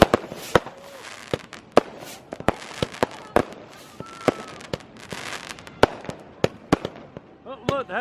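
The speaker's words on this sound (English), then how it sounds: "So those fireworks in the distance" New Year fireworks burst in the distance, a string of sharp, irregular pops and bangs with a few crackling volleys, as people chatter and cheer nearby.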